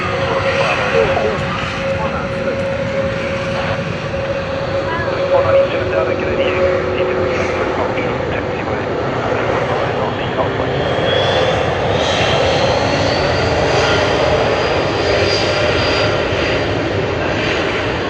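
Airliner jet engines roaring steadily through a takeoff roll at Sydney Airport, a loud continuous rumble with a rising whine, heard under ongoing talk.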